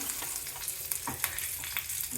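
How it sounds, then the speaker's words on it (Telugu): Tempering for a kalimi kayalu pickle: mustard seeds and curry leaves crackling in hot oil with the stove off, a close steady sizzle broken by sharp pops and spatters, no voices. "అయిపోయింది పోపు ఇందులో వేసేసుకున్నాం"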